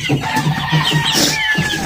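Native chickens cluck steadily and close by in a coop, with a few overlapping hen calls and a faint crow-like note mixed in across the short stretch.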